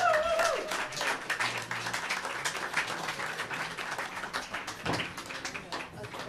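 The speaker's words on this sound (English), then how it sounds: "Round of applause for these guys" Applause breaks out at a jazz Sunday church celebration as the congregation claps for the musicians, scattered hand claps at moderate distance with some speech mixed in.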